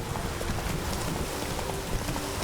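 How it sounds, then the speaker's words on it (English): Rain falls in The Witcher 3: Blood and Wine, a dense, steady patter across the whole stretch, with faint hoof-like clopping mixed in and no speech. "It is really rainy out here."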